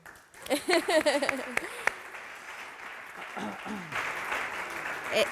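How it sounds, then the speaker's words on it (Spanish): An audience at a music-industry panel in Madrid applauds; a voice talks over the start, then a steady wash of clapping fills the room toward the end. "Un aplauso"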